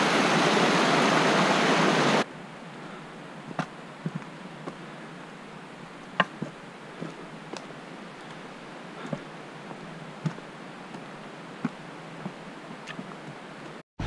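A loud, rushing roar of a mountain waterfall fed by melting snow fills the first couple of seconds, then cuts off abruptly to near quiet with faint scattered clicks.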